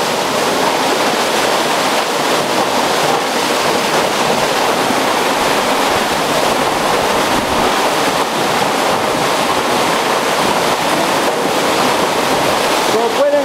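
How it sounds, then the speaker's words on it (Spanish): Water gushes steadily from a hose at a spring-fed community water source, a loud, dense, unbroken rush with no clear pauses throughout. "Voy a coger aquí agua en esta botella de esa manguera, porque esa agua es bien dulcecita"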